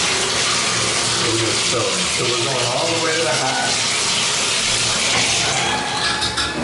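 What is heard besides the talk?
shower running water into a bathtub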